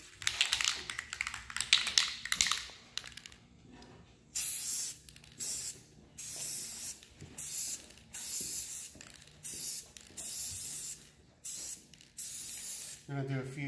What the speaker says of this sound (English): It's just like a gloss black spray paint